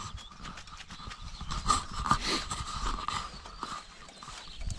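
Footsteps squelch and splash over flooded, soaked ground after rain, a series of wet, muffled steps close by at moderate volume with no talk.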